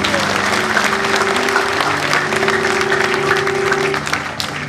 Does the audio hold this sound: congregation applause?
yes